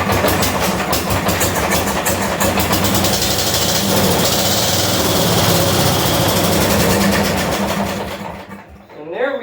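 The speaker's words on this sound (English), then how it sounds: "And there we go. It ran." An MTD 990 garden tractor engine, revived after sitting for years, catches and runs steadily with a loud, continuous chattering drone before cutting out near the end.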